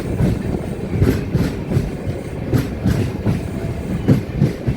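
A Tambaram express train rolls into platform 1 at Ramanathapuram station, its wheels beating a steady, loud clickety-clack over the rail joints close by, with no voices.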